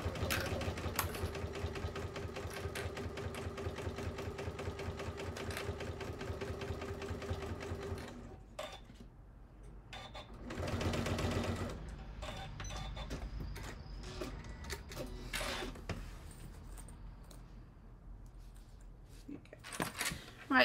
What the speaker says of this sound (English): you're going to sew 1/8 of an inch away from the edge.